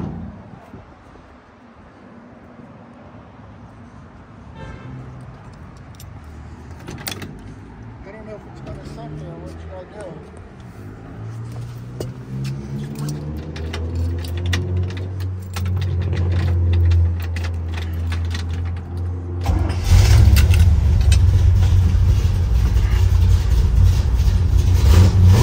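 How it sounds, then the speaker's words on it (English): A 1957 Chevrolet Bel Air with a 350 V8 and a new 2.5-inch stainless steel exhaust is started: keys jangle, then the engine cranks, catches and rises to a loud, steady running rumble up close. "we're gonna start this car up for you"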